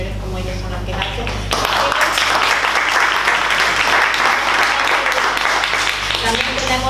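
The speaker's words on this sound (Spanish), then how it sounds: "Les pido un aplauso" Sustained applause from an audience at an Ecuadorian-Iberoamerican cultural association event, steady, dense clapping over a few seconds that starts after a speaker's voice and stays loud throughout.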